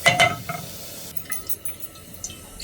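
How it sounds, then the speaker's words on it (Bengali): Whole cumin seeds and turmeric sizzle quietly in hot oil for dal, a soft steady crackle with a few clinks of a spoon against the pan at the start. "একটু ভাজা হোক"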